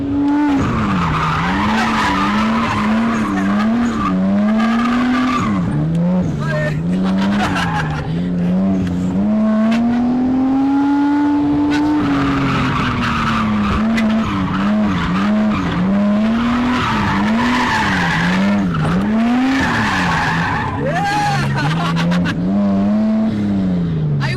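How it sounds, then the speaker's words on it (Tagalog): A supercar skids through repeated figure-eight loops, its tires squealing in long wavering arcs over a steady loud engine drone, continuous and close for the whole stretch. "show people how you figure eight and write your name on the ground."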